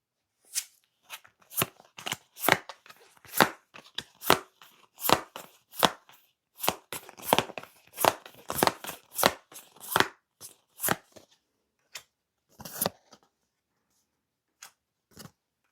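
Tarot cards are shuffled and drawn from a deck close up, giving a quick series of crisp, papery flicks and slaps in uneven bursts, with short pauses and a few isolated snaps near the end, without any talk.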